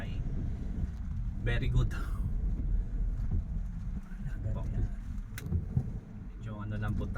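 A second-hand car climbing uphill with its transmission shifting, heard from inside the cabin as a steady, loud low rumble of engine and road noise that runs unbroken throughout while someone talks over it.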